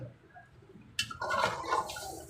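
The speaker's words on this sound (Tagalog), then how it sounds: "lagyan natin ng tubig para sa sabaw niya mamaya" Water pours into a pot for chicken tinola broth, starting abruptly after a quiet moment and continuing as a splashing, gurgling rush.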